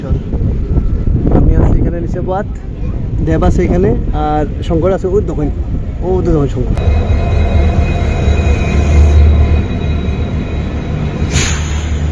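A train waits at a station on the New Karimganj–Silchar route, heard as a steady low rumble and hum with faint tonal whines, following several seconds of people talking close by.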